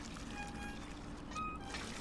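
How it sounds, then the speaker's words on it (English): Water pouring from a hand pump in Red Dead Redemption 2, a faint, steady splashing stream with no talk over it. "Use that water pump, my boy."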